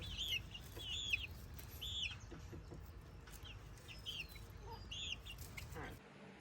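Chickens clucking at a backyard coop, a handful of faint, widely spaced calls over a low rumble, with a brief voice in the background.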